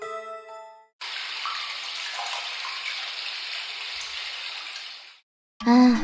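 Water pours steadily into a bath for about four seconds, a bright even rush that stops abruptly, framed by a short chime-like tone before and a voice speaking after.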